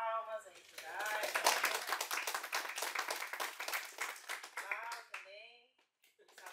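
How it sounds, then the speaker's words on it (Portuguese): A small group at a film and video school workshop claps for a person, with individual claps audible, while voices talk and laugh over the clapping before it fades out. "uma salva de palmas aí pro Dait"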